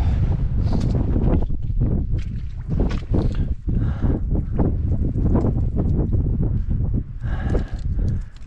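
Strong wind buffets the microphone on the cloud-covered summit of Ben Cleuch, roaring loud and gusty without a break, the turbulent rushing and thumping steady from start to finish with no voices.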